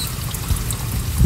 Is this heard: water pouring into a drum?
yes